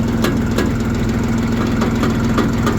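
A Jinma tractor engine runs loud and close with a steady low droning rumble and faint periodic clicks as it pulls away, with no voices.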